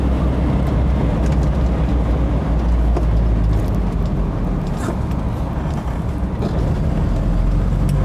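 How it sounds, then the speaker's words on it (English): A 1967 Audi 80 Variant with an old 8-valve engine, driving on an English road. A steady, close low drone of engine and road noise is heard from inside the car, even and unbroken. "Nice old 8-valve engine."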